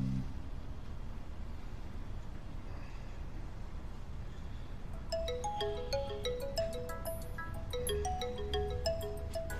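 A mobile phone rings with an incoming call, its melodic electronic tune starting midway and repeating over a low hum of background traffic, without any voices.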